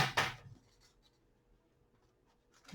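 A brisk riffle of tarot cards being shuffled up close at the start, then near quiet, with another soft rustle at the end.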